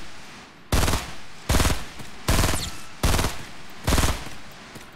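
Five bursts of rapid automatic gunfire in the video game Fortnite, fired at floating guns, each lasting roughly half a second and evenly spaced, loud and close with nothing else in between.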